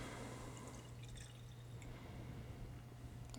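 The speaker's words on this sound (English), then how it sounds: "Let's go ahead and give it a pour." Bourbon pours into a glass, a faint, brief trickle and drip of liquid heard close up in a quiet room with no talking.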